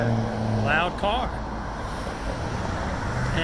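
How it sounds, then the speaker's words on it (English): A loud car rumbles past on a city street in Harrison, a steady low roadway drone under brief spoken words. "Loud car."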